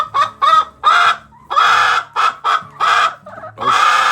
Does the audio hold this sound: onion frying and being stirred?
no